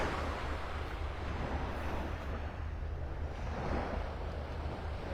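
Ocean waves wash onto the beach at Clam Pass in Naples, Florida, a soft continuous surf rush mixed with low wind noise, steady and moderately faint throughout.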